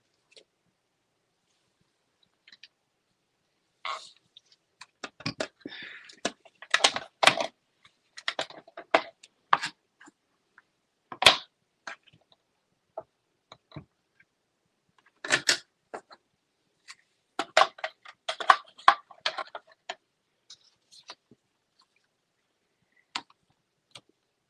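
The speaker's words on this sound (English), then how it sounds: "Now we're going to die cut this one." A die cutting machine runs a die through a card, giving sparse clusters of sharp clicks and ticks in irregular bursts with quiet gaps between them, close and fairly faint, with no talking.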